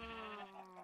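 A sheep in the Minecraft video game gives one short, nasal bleat, faint and brief with no talking.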